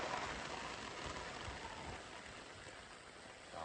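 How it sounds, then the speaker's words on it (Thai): Heavy rain pours down steadily during a storm in Vang Vieng, a dense, even hiss with scattered drips and patters, continuous and fairly close throughout. "ที่วังเวียงเนาะของพวกเฮานี่พายุเข้าแล้วพี่น้องว่าฝนตกแห้งหลาย"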